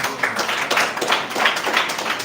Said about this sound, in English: Please, you can just give me a round of applause.